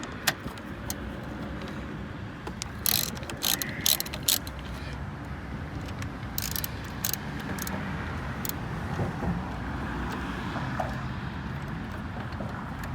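A ratchet on an extension turns a 10 mm bolt in the engine bay of a 2020 Kia Soul GT Turbo, with close, quick bursts of clicking pawl strokes and faint tool handling over a low background hum.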